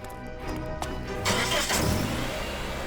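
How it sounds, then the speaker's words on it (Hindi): A car engine cranks and starts, surging into a rough, broadband roar about a second in and running steadily at close range in a tense crime-drama scene. "गाड़ी की आवाज।"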